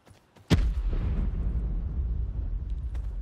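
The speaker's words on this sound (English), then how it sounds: "Just this huge explosion." A huge explosion in the video game Blackout: a sudden sharp blast followed by a heavy, rumbling roar that stays loud and slowly decays, close and alone without talk.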